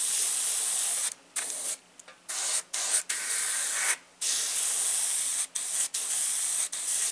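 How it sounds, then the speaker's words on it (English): Airbrush spraying pink paint onto a T-shirt, a steady close hiss broken by repeated short stops and restarts as the trigger is released and pressed again. "Oh, we got some stuff going on with the airbrush."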